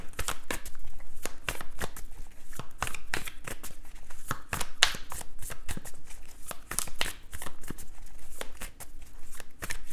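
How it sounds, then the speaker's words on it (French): A deck of tarot cards is shuffled close up in a fast, continuous run of papery riffles and snapping clicks that keeps an even, busy rhythm throughout, with no one speaking. "On va recouvrir les cartes."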